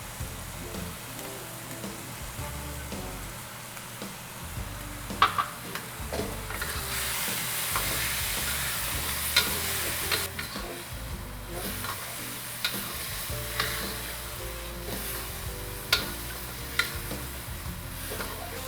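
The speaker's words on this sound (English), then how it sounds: "Now that the pork is almost done, I'm going to go ahead and add my sauce mixture." Sauce mixture poured into a pan of nearly cooked frying pork for zha jiang mian, a steady sizzle swelling into a louder hiss, broken by sharp scrapes and clacks of stirring, close up with no talk.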